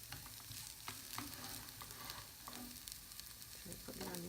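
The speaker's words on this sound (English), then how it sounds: "I'm moving the onions over so I can make a bit of space for the chips" Fried onions are pushed across a frying pan to clear room for leftover chips, with a steady soft sizzle and repeated close spatula scrapes and stirs, fairly quiet and with no voices.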